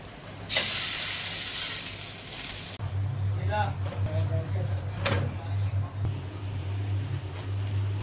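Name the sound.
chapati roasting in oil on a frying pan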